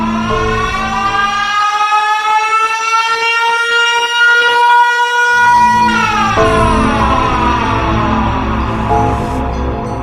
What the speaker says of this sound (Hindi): और तभी साइरन हेड जोरदार आवाज निकालकर